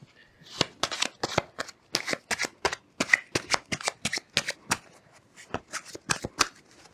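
Rapid papery riffles and flutters of a deck of playing cards being shuffled on the knee, in quick repeated bursts, close and fairly quiet.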